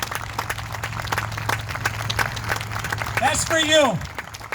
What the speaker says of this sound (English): give the Macomb Symphony Orchestra and our conductor, Tom Cook, a big hand clap of thanks